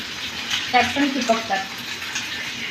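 Food frying on a griddle pan in a home kitchen gives a steady sizzle with a few brief spikes of hissing, while people talk over it.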